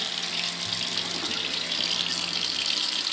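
Soaked bird seeds are rinsed under a running kitchen tap, a steady, loud rush of water splashing continuously into a strainer in the sink.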